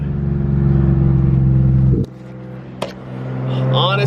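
A Nissan 350z with a newly fitted engine pours out a loud, steady exhaust drone that cuts off sharply after two seconds, followed by a brief knock and a quieter rumble with a voice.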